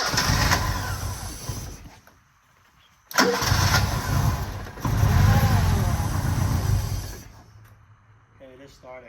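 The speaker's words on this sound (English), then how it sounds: "It started. I'll give it a little gas." A turbocharged 1983 Pininfarina Spider engine cranks and fires, cuts out, then catches again and revs up loud and near before settling, with someone speaking briefly toward the end.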